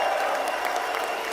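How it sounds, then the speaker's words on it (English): An audience at a political event applauds steadily, a dense wash of clapping close by with no voices over it. "Give him a big round of applause for the anti-woke General."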